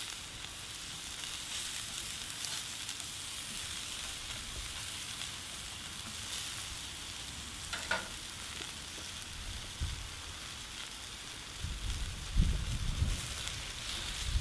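Sweet potatoes fry on a steel plancha with a constant close sizzle. Near the end, a few scraping knocks rise briefly from the cooking surface.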